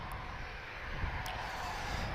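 An Airbus A330 heavy airliner hums at a distance during pushback at Lisbon Airport, a steady low engine drone with wind noise, faint and continuous.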